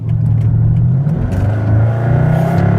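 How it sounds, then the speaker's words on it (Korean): A loud car engine revs high to about 7000 RPM, pitch climbing steadily as it accelerates, close and dominant with no talking over it. "엔진 소리 대단하네"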